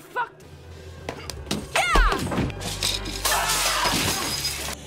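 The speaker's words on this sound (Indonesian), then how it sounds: "memecahkan botol kaca di kepalanya" Glass shatters loudly in a brief smash as a bottle breaks over a head during a dramatized fight, followed by scattered debris and a busy mix of impacts and background noise.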